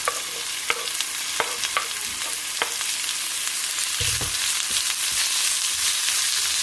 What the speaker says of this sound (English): I'm adding my onions. Together with the dhania stalks or the coriander stalks,